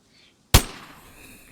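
A single sharp rifle shot fired at a deer in the video game DayZ cracks out loud and close after near silence, then trails off into a long fading echo.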